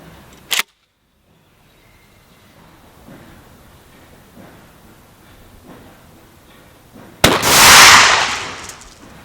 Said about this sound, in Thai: อันนี้เป็นกระสุนลูกซองเป้าบินนะครับเบอร์เจ็ด กระสุนเบอร์เจ็ด ครึ่ง ยิงที่ระยะประมาณสิบห้าเมตร